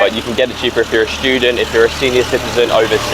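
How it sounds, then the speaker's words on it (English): A tractor rolls past on a street in Udaipur, India, its low engine rumble steady beneath continuous close conversation. "Excuse that noise, the tractor decided to come past us."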